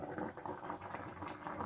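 A spiced Bengali curry for rohu fish and pui shak, with cumin paste and spice paste in water, boiling in a covered pot and giving off a soft, steady, faint bubbling.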